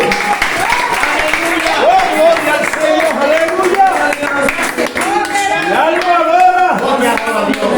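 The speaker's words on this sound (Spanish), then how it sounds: "denle un aplauso a Cristo" A church congregation applauds for Christ, loud dense clapping and crowd noise running throughout with a preacher's voice speaking over it.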